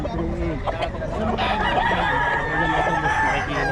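Fighting cocks kept for sale at a Bocaue market crow over a dense, steady din of other birds clucking and calling, with indistinct voices mixed into the noisy crowd.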